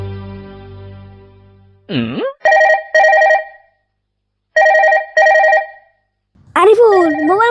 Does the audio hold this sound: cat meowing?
no